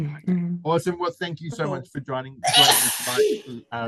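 One sharp, forceful sneeze bursts out between stretches of conversational speech during an evening online session, loud and close.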